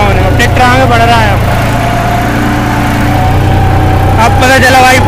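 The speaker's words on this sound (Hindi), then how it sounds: "ये देखो इतने आरपीएम पे चल रहा है लेकिन चल रहा है ट्रैक्टर" A four-wheel tractor engine running hard at high rpm in a field, a loud steady drone with a low throb, while someone talks over it throughout.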